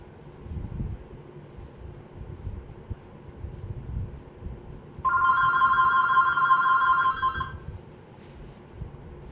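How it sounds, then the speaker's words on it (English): A telephone rings once in a room, a single steady electronic trill lasting about two seconds, moderately loud over low background rumble, with no speech around it. "And phone rings."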